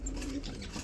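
Caged fancy and Rajgolla pigeons give a brief, soft, low cooing murmur that sounds close but faint.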